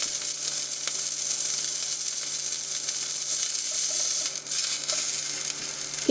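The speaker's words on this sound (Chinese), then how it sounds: "这个过程可以迅速地将牛排各个面都封住，牛排内部的水分不会流失。" A Costco Prime beef steak searing in a hot pan over high heat gives a steady, loud sizzle with crackling spatter, a couple of brief scraping or shifting moments near the end, and no talk.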